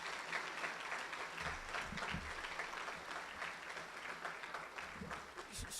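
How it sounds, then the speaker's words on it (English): A graduation ceremony audience claps in a sustained round of applause, a continuous mid-level wash of many hands with no break, fairly distant in a large room. "I want you to give a round of applause for those who aren't here in the room"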